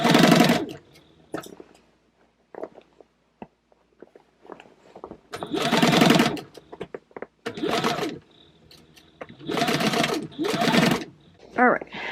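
A sewing machine stitches a purse seam in several loud, close bursts of fast whirring, separated by quiet pauses filled with small handling noises.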